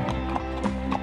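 Horse hooves clip-clop on a street in Lafayette, Louisiana, a few quick, light hoofbeats over a steady tonal hum in the background.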